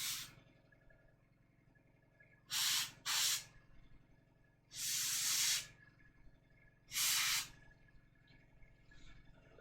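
An airbrush or spray can paints a miniature in four short hissing bursts of spray, separated by quiet pauses, close to the microphone.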